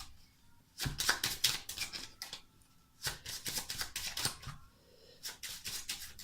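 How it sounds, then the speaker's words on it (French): Playing cards shuffled by hand during a simple card magic trick, heard as several bursts of rapid riffling and flicking, each lasting about a second or more with short pauses between, close and fairly soft. "On va mélanger les cartes."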